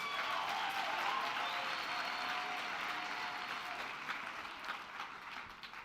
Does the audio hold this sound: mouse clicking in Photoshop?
no